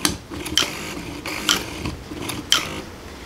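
A high-torque servo steering a remote control go kart, giving repeated short whirring, grinding bursts about once a second as it sweeps back and forth, close by with no talk.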